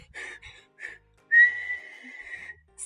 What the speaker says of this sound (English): Suddenly, out came a real whistle.